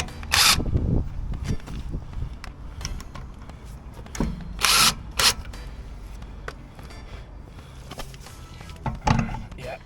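Impact gun on a Honda Civic Type R FN2 rear wheel, firing a few sharp, loud bursts to knock the wheel spacer and wheel off in a garage, with clattering knocks and low talk between the blasts.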